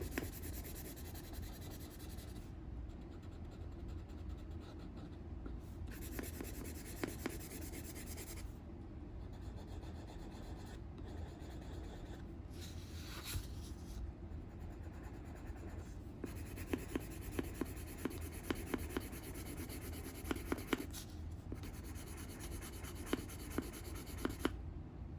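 Pencil rubbing steadily across a coloring page, close and alone, with a continuous scratchy rasp broken by short pauses and brief lifts of the point.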